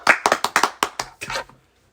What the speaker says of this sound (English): We're applauding you.